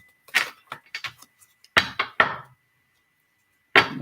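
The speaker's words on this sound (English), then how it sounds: "All I do is try and shuffle them" A deck of playing cards is shuffled by hand. A handful of short, quick riffling and snapping bursts sit close by, with gaps of quiet between them and no talking.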